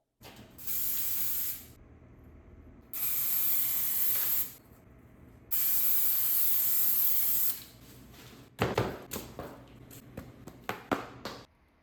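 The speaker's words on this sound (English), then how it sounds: "This one I'm using, you spray it on and it's fast drying." Three long bursts of fast-drying spray adhesive hiss loudly, separated by pauses, followed by a series of short spritzes and clicks.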